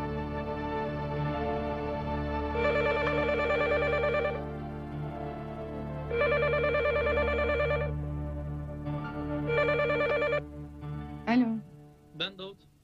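In a Turkish TV drama, a telephone rings in three repeated bursts of trilling over a low musical background, followed by a few brief sounds near the end.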